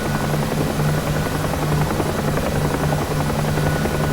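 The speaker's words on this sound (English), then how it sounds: "One of my favourite helicopters" A helicopter flies in a flight simulator game, a loud, steady rotor drone with a constant low pulsing thrum that fills the whole stretch without a break.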